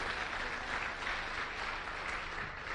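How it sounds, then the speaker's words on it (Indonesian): An audience at a motivational seminar claps for two successful people, a fairly soft, even wash of many hands applauding continuously without a break. "Beri tepuk tangan 2 orang yang berhasil ini"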